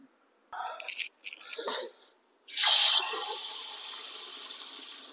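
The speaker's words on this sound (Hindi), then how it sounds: "अभी भिगोने रख देता हूँ मैं इसको फटाफट।" Water poured into a container of mung beans set to soak, starting with a loud rushing burst that settles into a steady pour, preceded by brief scattered clatter and handling sounds.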